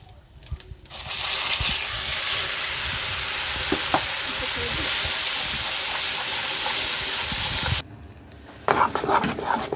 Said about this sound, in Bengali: কিছুক্ষণ তেলে ভেজে নিলাম।